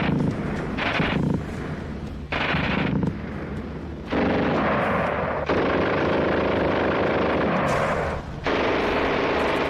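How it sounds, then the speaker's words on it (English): Sustained heavy gunfire roars loudly through most of the stretch, broken by a few brief pauses, with dense rapid bursts and no voices. "the machine gun is the key element of weaponry on the battlefield"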